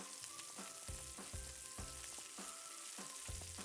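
Cedar-wrapped salmon goes onto a charcoal grill, giving a soft, steady sizzle with faint crackles and a few light knocks, heard quietly and without speech.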